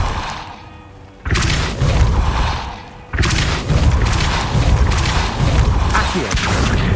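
A Depulso force-push spell cast in Hogwarts Legacy lands as a heavy booming thud, with two loud impacts followed by sustained rumbling and clattering debris.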